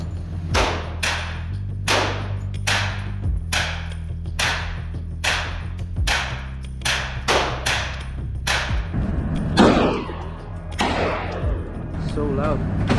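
A gun fired at an indoor shooting range: ten sharp, loud reports at steady intervals, then clatter and movement, with people talking softly between shots.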